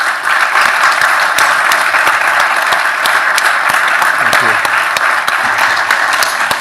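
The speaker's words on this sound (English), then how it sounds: "If we can give these three gentlemen a round of applause." An audience at a South Dakota rural healthcare event bursts into loud, dense, sustained applause, a steady wash of many hands clapping throughout.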